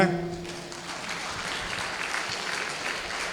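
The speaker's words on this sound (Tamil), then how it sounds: "இந்த இடத்துல நீங்கள் கை தட்டணுங்க." An audience claps together at a business talk, the applause rising quickly and holding as a steady, dense patter for several seconds, with a brief voice at the very start.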